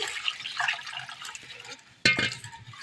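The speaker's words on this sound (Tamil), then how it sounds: "இப்போ தண்ணி ஆட் பண்ணணும்" Water pours in a short, splashing burst into a bowl of raw rice, preceded by faint rustling and handling noises.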